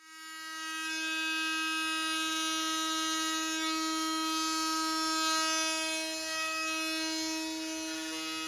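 Oscillating multi-tool cutting a shape in stone wall cladding around a gas heater, giving a steady high-pitched buzzing whine that holds for several seconds at moderate volume.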